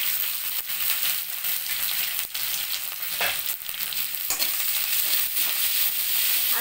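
Dried red chillies crackle as they fry in hot oil for a chow chow kootu, a steady close sizzle with brief stirring scrapes and no talk.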